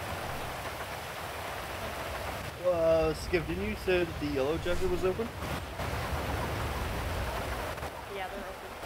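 Rain in the GTA roleplay server Oasis RP pours as a loud, steady patter and hiss throughout, while players talk over it in the middle stretch.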